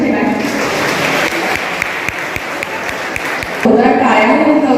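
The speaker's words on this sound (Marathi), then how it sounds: "टाळ्या होतं सुजित भैयासाठी" An audience at a Jawahar Navodaya Vidyalaya Akkalkuwa alumni meet claps steadily, a dense, sustained round of applause that swells louder near the end.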